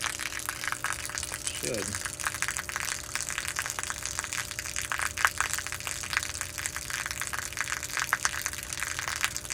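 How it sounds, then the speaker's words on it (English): A pump pulls water out of a fish tank with a steady gushing, gurgling sound heard close up, and someone briefly speaks over it. "I'm just going to pump as much of this water out of this fish tank as I can"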